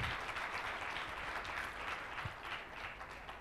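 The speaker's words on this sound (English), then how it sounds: "are you happy with that applause?" Audience applause fills a plenary session hall, a steady dense wash of clapping from a large crowd that holds evenly for a few seconds with no voices over it.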